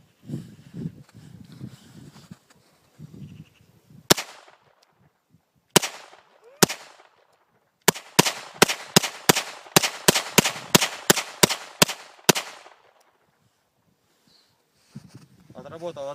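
An Umarex Walther P99 9mm P.A.K. gas pistol fires Czech SMB blank cartridges: three sharp, separate loud cracks, then a rapid string of about thirteen more. Someone talks before and after the shots.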